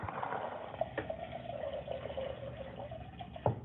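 Water pours steadily into a pot of beans that were soaked overnight, a continuous close splashing and trickling fill with a few small knocks, no one speaking.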